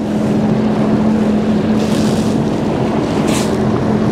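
A 2022 Sea-Doo GTX 300 LTD personal watercraft runs on a lake in eco mode, a loud steady engine drone with constant wind and water rush close to the rider, unbroken throughout.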